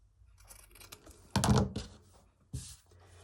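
Scissors snip through vintage fabric, giving a couple of short, close crunching cuts separated by quiet pauses.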